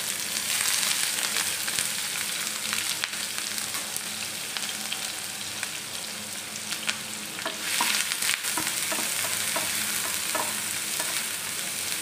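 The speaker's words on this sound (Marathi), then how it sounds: "छान परतून घ्यायचं आहे" Finely chopped onion with chillies sautéing in a pan, a continuous close sizzle with frequent scraping stirs and a few clicks near the end, no voices.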